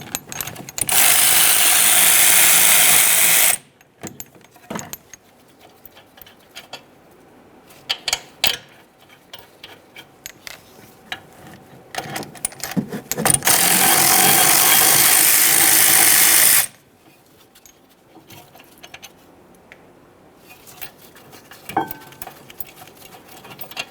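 A ratchet tool runs on the 15mm caliper bracket bolts of a 2013-2020 Ford Fusion during a rear brake job, making two long, loud, steady bursts with clanks and tool handling between them.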